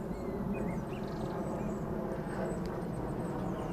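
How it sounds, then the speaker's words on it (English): Airplanes pass overhead at a lakeside carp fishing spot, a steady low droning rumble of engines that stays constant throughout, fairly faint and distant. "The planes are pouring across the top of me."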